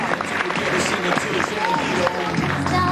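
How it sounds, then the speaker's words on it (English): Applause from the audience at a 1998 school fashion show in County Cork keeps up a fairly loud, continuous patter, with a voice briefly audible through the clapping. "Let's give a round of applause"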